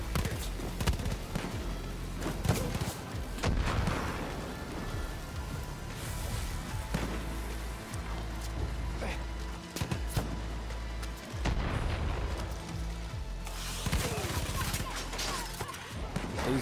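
Gunfire in the post-apocalyptic shooter game Far Cry New Dawn, with repeated sharp shots and bursts scattered across a busy combat soundscape of thuds and impacts.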